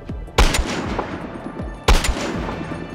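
Gunfire in a video game: two loud, sharp shots about a second and a half apart, each trailing into a rattling echo, with no voices.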